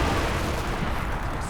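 An anti-tank grenade attack in Company of Heroes 2 bursts out as a dense, loud wall of explosive battle noise, with gunfire and blasts packed together across a short stretch.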